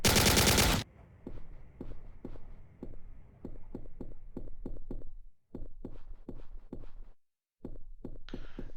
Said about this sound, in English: a nice 30 caliber autocannon that fires as fast as a machine gun